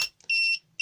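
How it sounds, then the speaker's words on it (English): Short electronic beeps from a laser level that is not stable, a brief chirp followed by a sustained high-pitched tone and the start of another, loud and close with no talking. "Now it's beeping. That's because it's not stable"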